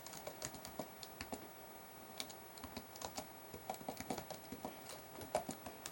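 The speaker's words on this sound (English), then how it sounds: "type your error message" Quiet, irregular clicks of keys on a computer keyboard as an error message is typed into Python calculator code, with keystrokes arriving in short uneven bursts and no voices.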